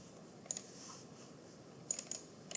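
Quiet, sparse clicks of a computer mouse and keyboard keys, a few separate taps near the start and a small cluster near the end, at close range with no talking, while keyboard shortcuts are set up in CorelDraw.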